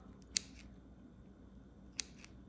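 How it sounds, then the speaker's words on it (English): Scissors make two sharp, brief snips, about a second and a half apart, cutting slices of butter for an egg pie. The snips are close and crisp over a quiet room hum, with no voices. "So just cut slices of the butter, super simple and easy."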